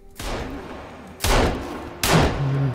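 Three heavy gunshots from a shotgun in Sons of the Forest boom about a second apart, each with a long reverberant tail, loud and close with no talking.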